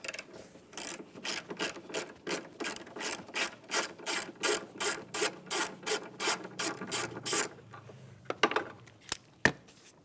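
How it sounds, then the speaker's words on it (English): A ratchet wrench loosens the 13 mm battery hold-down bolt on a 2000-2006 Chevrolet Tahoe, a steady run of quick clicking strokes that end in a few scattered metallic clinks. "Let's remove that mounting bolt and the battery hold down."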